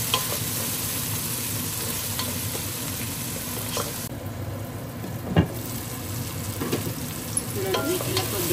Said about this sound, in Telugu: తర్వాత ఇప్పుడు టమోటా వేసుకోవాలి. టమోటా కానీ కొద్దిగా మగ్గనివ్వాలి బాగా.